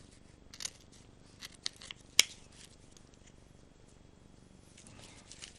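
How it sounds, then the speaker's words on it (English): Scissors snip the loose tail ends of a tightly bound herbal smudge stick: a few sharp, close clicks scattered over several seconds against quiet background. "so I'm going to snip that off."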